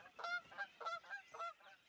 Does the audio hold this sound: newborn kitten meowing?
no